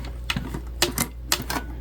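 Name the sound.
hand-cranked sewing machine stitching through thick fabric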